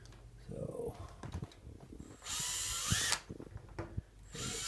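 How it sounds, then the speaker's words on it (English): A power drill whines loudly in two long bursts, drilling through the mesh screen top of an Exo Terra terrarium, with clicks and handling noises between them and brief talk nearby. "I'm actually going to drill right through the screen and everything."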